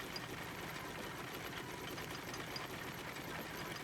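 In the video game Crimson Desert, a mechanism lowers after a lever is turned, giving a faint, steady mechanical whirring and rattling hum that holds evenly throughout.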